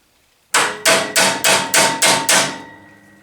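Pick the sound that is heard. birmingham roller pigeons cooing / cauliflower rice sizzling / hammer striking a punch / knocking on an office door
hammer striking a punch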